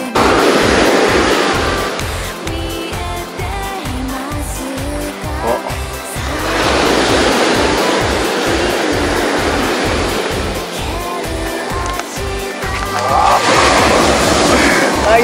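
Ocean waves along the coast at Odawara, Japan, surge in loud, broad roaring crashes that swell and ebb, with a steady low wind rumble and buffeting underneath throughout.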